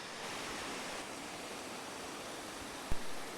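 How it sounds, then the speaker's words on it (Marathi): A steady, full roar of rushing water from the waterfall at Dhutpapeshwar temple in Konkan fills the whole stretch, with a short sharp knock near the end. "हा जो धबधबा आहे ना तो आपलं रौद्र रूप धारण करतो"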